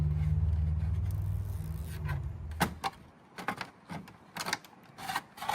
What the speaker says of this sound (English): Grab the red tape, peel it off.